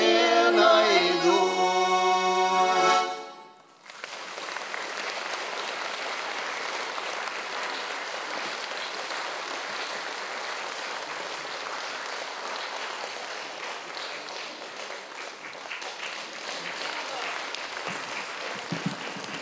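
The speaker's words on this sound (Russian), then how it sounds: "Провожаем аплодисментами." An audience claps steadily after a folk ensemble's song, a dense, even roar of applause that runs on after the final sung notes break off, loud and close throughout.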